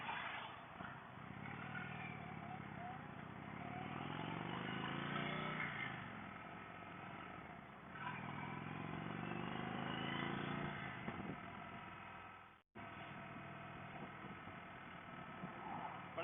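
A 2017 Indian Vintage motorcycle's big, torquey engine drones steadily while riding, with rising and falling pulls as it shifts through the gears and a brief drop near the end, set against wind rush.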